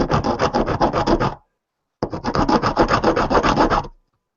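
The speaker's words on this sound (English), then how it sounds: "the reason I'm using a very rough grit is because I don't want to be sanding all day" Two bursts of rapid, rhythmic rasping strokes, coarse-grit sandpaper scraping back and forth on metal, separated by a short pause of silence.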